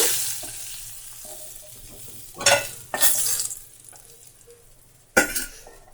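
Fish heads fry in hot oil in a pan, a low steady sizzle broken by several louder bursts of spattering and stirring.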